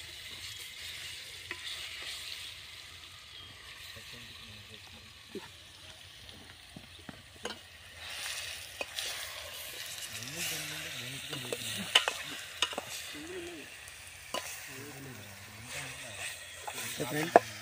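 Chicken frying and being stirred in a pan during village-style cooking of green chicken, a low steady sizzle with occasional scraping stirs and clinks, fairly faint, with a voice speaking at times.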